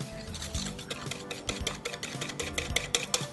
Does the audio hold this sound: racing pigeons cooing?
no